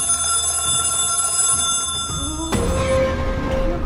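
A telephone rings during a late-night ritual at 3:33 AM, a bright steady electronic tone that shifts abruptly partway through into a fuller, busier ringing, fairly close and loud with no talking.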